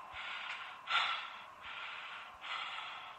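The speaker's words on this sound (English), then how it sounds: "Stop all that breathing." Heavy rhythmic breathing from a character in the horror video game CBeT, with about four close, airy breaths in even succession and faint low thumps beneath.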